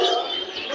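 A pigeon at a busy bird market gives one brief, fairly loud call close by, lasting under a second.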